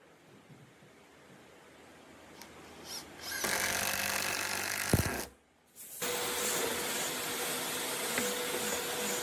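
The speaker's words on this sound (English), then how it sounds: "The threads bite deeply into the grain, pulling the heavy upper assembly down tight." A power driver sends screws into pine timber on a pavilion roof assembly, two loud sustained whirring runs separated by a brief pause, preceded by quieter handling clicks, close up with no talking.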